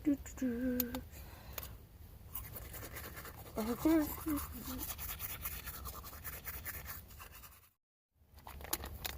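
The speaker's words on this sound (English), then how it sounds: "Take some toothpaste. Put it on the toothbrush." Scratchy bristle strokes of a toothbrush being used in a small van bathroom, faint and close, in short bursts with quiet gaps between them.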